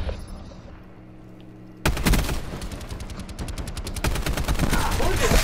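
Sudden, dense bursts of automatic gunfire and rapid shots from an online shooter video game match break in loudly after a quiet stretch and keep going without pause.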